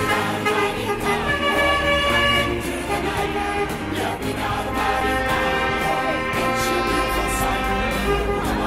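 Loud truck horns blare and honk repeatedly over a steady rumble of heavy traffic during a memorial truck convoy run in West Wales, layered and continuous throughout.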